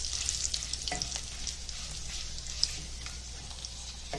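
Garlic, chili and curry leaves fry in oil, sizzling and crackling steadily in a pan, with occasional stirring clinks and small pops, fairly close and without speech.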